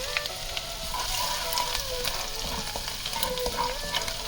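Chopped garlic fries in hot oil in a kadai, giving a steady, close sizzle with faint stirring scrapes and occasional crackles throughout, no voices.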